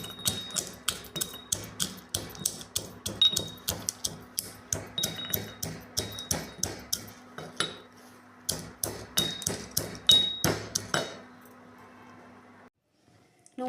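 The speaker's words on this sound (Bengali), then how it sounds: "এটাকে গুঁড়ো করব আমার দিস্তা দিয়ে, খুব বেশি গুঁড়ো হবে না।" Roasted whole garam masala spices pounded in a mortar and pestle, a close series of sharp rhythmic thuds repeating steadily about twice a second, then stopping.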